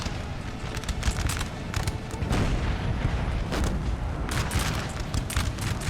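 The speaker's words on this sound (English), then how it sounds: "That last artillery hit did the trick." Artillery fire and battle din in Napoleon: Total War, a dense continuous rumble of cannon booms and musket volleys with several sharp reports standing out, loud and steady throughout.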